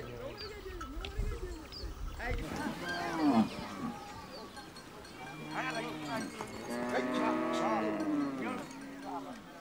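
Maasai cattle moo several times, the long lowing calls rising and falling at moderate distance, with other livestock sounds and a faint background murmur.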